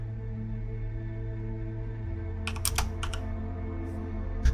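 Quick keystrokes on a computer keyboard come in a short close burst of several clicks over a steady low electronic hum.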